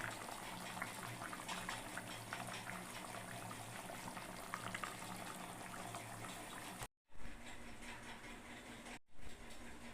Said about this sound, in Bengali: এটা একটু ভালো করে ফুটবে মানে একটু গাঢ় সরস থাকবে